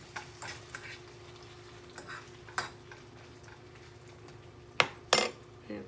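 Beef and shrimp stir fry being mixed in a pan, with scattered light utensil clinks and scrapes over a soft low hum, then two sharper, louder clatters near the end.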